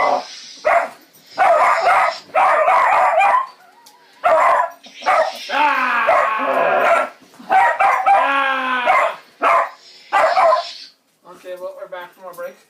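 A dog barks and yips repeatedly at close range, mixed with drawn-out whining and whimpering cries, as it reacts to lightsabers.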